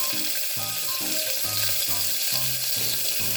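Chopped onion fries in hot oil for a tomato rice dish, giving a steady, dense sizzle that stays even throughout, with a faint repeating low tone underneath.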